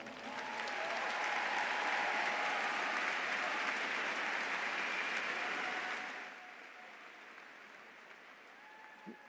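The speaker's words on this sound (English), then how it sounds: "It'd be really great if you could give them a round of applause." A large audience at a spring university commencement ceremony gives sustained applause, a broad roar of clapping that holds steady for about six seconds before dropping quickly to quieter room noise with scattered claps.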